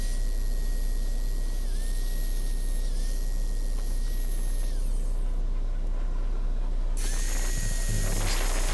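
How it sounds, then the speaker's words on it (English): Continuous high whine and hiss of a power sander working a maple bowl turned by hand off the lathe, loud and steady with small pitch dips, briefly dropping away before resuming. "doing some power sanding without the lathe running, just turning it by hand"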